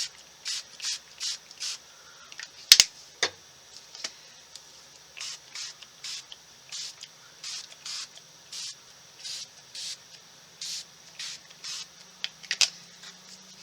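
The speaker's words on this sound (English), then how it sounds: "Let's add some more blue spray" Repeated short hissing spritzes of blue ink mist from a spray bottle, about two dozen quick bursts in an irregular rhythm, with a couple of louder knocks in between.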